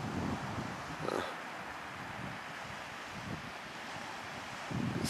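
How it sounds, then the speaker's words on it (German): Steady wind rushes over the microphone with a broad wash of Mediterranean surf behind it at Águilas, Spain, a continuous roar that swells slightly near the start and end. "Das Meer."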